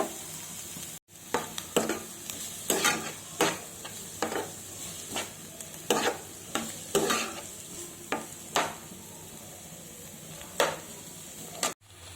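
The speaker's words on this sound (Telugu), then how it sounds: "ముందుగా కట్ చేసుకున్న ఉల్లిపాయలు, పచ్చిమిరపకాయలు మనం వేసుకున్నాం. కొంచెం గోల్డ్ కలర్ వచ్చేంత వరకు వేయించుకుందాం." Onions and green chillies fry in hot oil with turmeric, a steady close sizzle broken by repeated scraping stirs of a spoon in the pan, with no talk over it.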